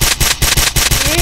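Automatic gunfire in a Roblox game rattles in loud, rapid rhythmic bursts close up, with a faint voice underneath.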